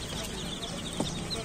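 Colorful chicks cheep softly and repeatedly while eating feed, with faint pecking and a low background hum running under them.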